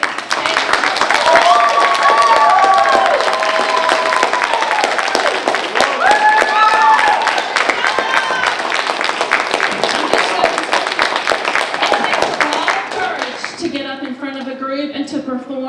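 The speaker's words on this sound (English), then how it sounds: "I want everyone to give them all another round of applause" A talent show audience gives sustained, dense applause with cheers throughout, while a voice speaks over it, the clapping thinning near the end.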